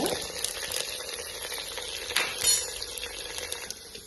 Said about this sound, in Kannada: ಸ್ವಲ್ಪ ಬ್ರೌನ್ ಕಲರ್ ಆಗ ತನಕ ಫ್ರೈ ಆಗ್ತಿದೆ